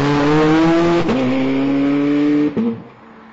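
Loud, close engine note from a 2008 Ferrari 430 Scuderia V8, held at steady high revs with two brief shift dips before it drops away at the end.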